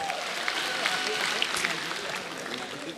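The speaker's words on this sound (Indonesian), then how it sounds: "beri tepuk tangan buat Raditya Dika" Steady, full audience applause at a live stand-up comedy show for a comedian, continuous dense clapping from a large crowd with some voices underneath.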